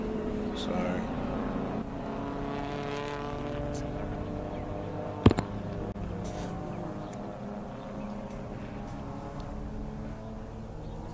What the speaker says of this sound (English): here comes the safety car up one more time.